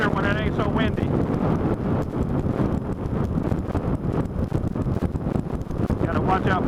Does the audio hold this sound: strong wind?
yes